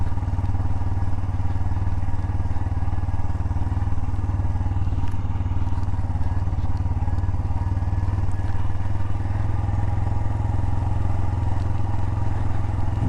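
A motorcycle climbs steep, loose gravel on a solo winter ride in the North Carolina mountains, its engine droning steadily and loudly the whole time, with occasional clatters and thumps from the stones.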